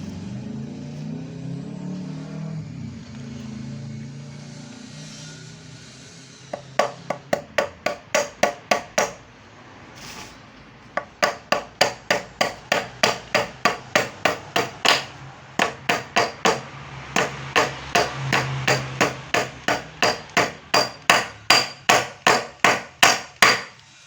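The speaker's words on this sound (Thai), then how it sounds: "ก็เราทำการตอกสลักเข้าได้เลยนะครับ ตอกสลักเข้าได้เลย" Sharp metallic hammer strikes ring out in quick steady runs as a pin is driven into a Samsung washing machine spin-dryer shaft, dozens of blows close by with brief pauses between bursts, after some low mechanical hum.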